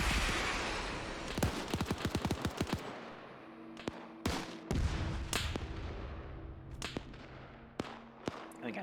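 Panzerfaust anti-tank launcher and gunfire in a military video game: a rapid run of sharp cracks in the first three seconds, then scattered loud blasts and shots spaced over the rest, with a low steady hum underneath.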